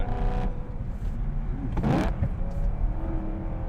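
Naturally aspirated manual BMW M3 or M5 engine revving in the cabin, a loud continuous drone with a sharp throttle blip and shifting surge midway, heard close from inside the car.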